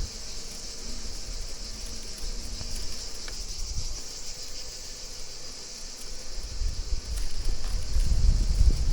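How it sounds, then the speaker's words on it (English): A dense, continuous chorus of buzzing cicadas on the way to Albarracín, Spain, fills the air at a steady pitch, with faint wind rumble rising near the end. "Just listen to those cicadas."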